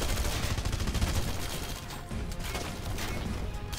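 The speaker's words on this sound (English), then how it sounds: "where the heck is he shooting me from?" Gunfire aimed at the player in Red Faction Guerrilla, heard as a dense, continuous crackle of rapid shots and impacts that holds loud and steady throughout.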